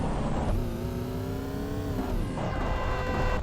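Car engine in Payback 2, droning steadily and then rising in pitch as it accelerates before dropping back, loud and continuous, with no voices.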